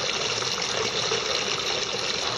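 A 1600 gallon pump pushing water through a gold cleanup sluice, giving a steady, loud, even gush and rush of flowing water with no pauses.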